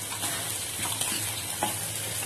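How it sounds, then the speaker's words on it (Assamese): Dried Bombay duck fish and dry red chillies frying in a pan, a steady close sizzle with soft stirring scrapes and a couple of light clicks, no talking. "এইখিনি অকণমান ভাজি ল'ব যাতে কেঁচা গোন্ধটো নাইকিয়া হৈ যায়"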